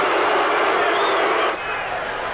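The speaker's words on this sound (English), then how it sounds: "Well, the crowd don't like it." A boxing crowd at a Pinklon Thomas versus Curtis Isaac fight gives a loud, sustained roar of disapproval for about a second and a half, then drops to a softer murmur.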